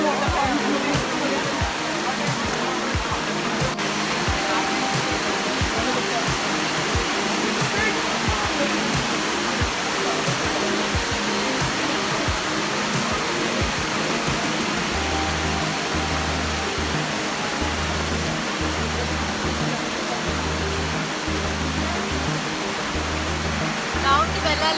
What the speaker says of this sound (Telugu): కింద ఎక్కడి వరకు ఉన్నాయి వాటర్ ఫాల్స్.